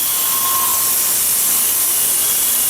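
A rock saw cuts through Agua Nueva vein agate with a loud, continuous hissing whine that stays steady and close throughout, with no voices.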